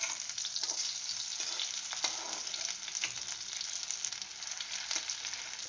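Fish roe fritters with raw onion and green chilli sizzle and crackle steadily in hot oil in a pan, a continuous close frying hiss with occasional sharper pops as pieces are turned.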